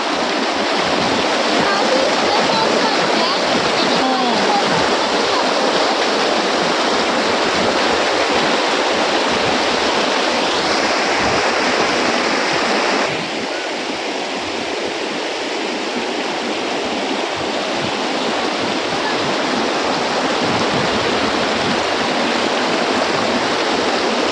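A rain-swollen stream rushes down a slope in a Konkan village, a loud, broad, unbroken roar of churning water that holds steady throughout, easing slightly partway through.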